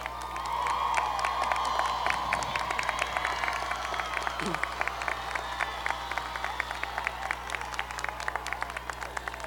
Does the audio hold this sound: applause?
yes